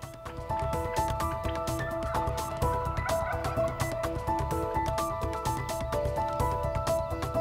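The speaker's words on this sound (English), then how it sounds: "There were just birds everywhere. They were sounding off all up and down the tree plot we were in" Birds call from the trees of a tree plot in Hawaii, with many overlapping calls and repeated notes, steady and fairly loud throughout.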